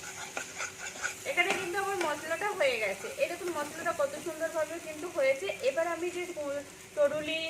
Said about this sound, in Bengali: আমি একটু বেসনটাকে ভালো করে ভেজে নিচ্ছি